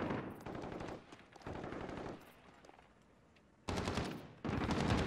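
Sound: gunfire in video game Call of Duty Modern Warfare

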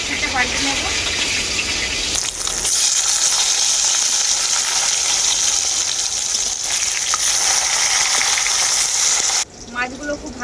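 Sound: snakehead fish pieces frying in hot mustard oil

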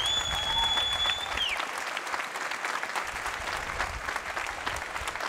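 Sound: applause

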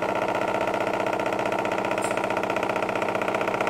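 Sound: Bedini pulse motor running

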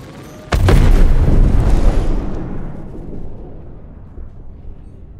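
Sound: explosion of a destroyed 300i ship in the video game Star Citizen

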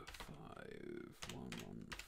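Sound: typing on a computer keyboard

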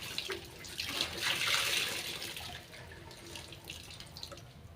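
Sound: water poured onto cotton clothes for washing

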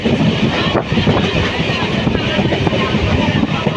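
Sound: riding inside a train at sunrise

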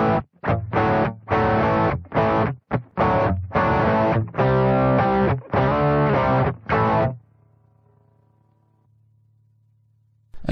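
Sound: electric guitar through Boss OD-1 overdrive on GT-1000

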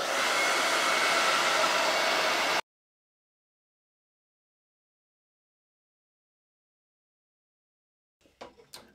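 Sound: hair dryer drying a painted decor board

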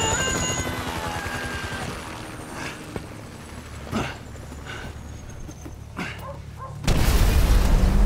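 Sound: helicopter in the video game Grand Theft Auto 5

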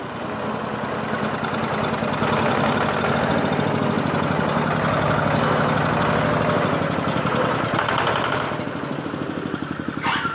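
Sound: modified farm tractor engine running

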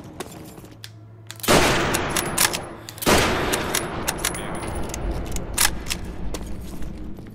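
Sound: gunshot in video game World at War

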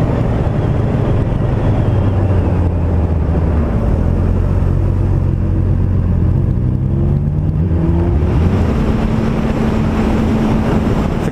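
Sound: Honda CBR 600F motorcycle engine revving with original exhaust

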